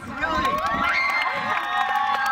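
A large crowd cheers and shouts at a youth conference flash mob event, a loud, steady wall of voices with bright, excited calls rising over it and no pauses.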